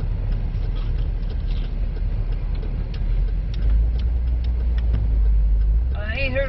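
A car drives along with a steady low engine rumble and road noise from inside the cabin, and a voice briefly speaks near the end.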